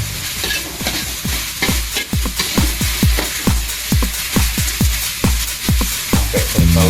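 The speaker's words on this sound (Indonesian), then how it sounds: "Aduk terus" An Indonesian dish fried in a pan and stirred nonstop, a loud, close sizzle with a quick, regular run of spatula scrapes and knocks against the pan.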